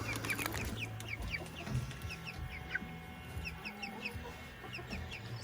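Several chickens cluck repeatedly in a backyard, short clucks and chirps scattered across the clip at moderate distance with steady outdoor background noise.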